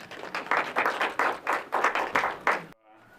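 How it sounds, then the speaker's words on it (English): A small audience at a chess parents meeting claps in uneven bursts, fairly close, a short round of applause that swells and dips several times before ending abruptly. "Let's give him a round of applause."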